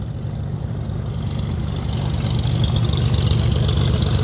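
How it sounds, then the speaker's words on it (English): A Cessna 206 taxis at an Alaska airfield, its engine holding a steady low, rumbling idle that grows slightly louder, continuous with no talk. "There's a 206 taxiing back here."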